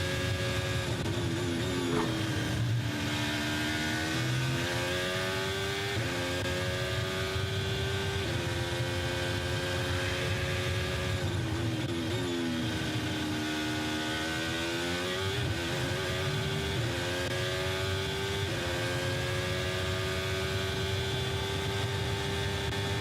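Formula 1 car engine at the Bahrain Grand Prix practice session, a loud high-pitched wail rising and falling through repeated gear shifts and braking as the car laps, continuous and fairly close throughout.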